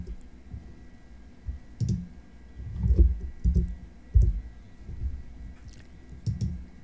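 Sparse, soft clicks from a computer mouse and keyboard while filling in a web portal form, tapping out in small irregular clusters against a quiet room background.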